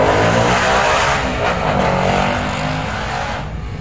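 A loud motorcycle engine roars outside, revving close by and then slowly fading as it passes, alone with no talk.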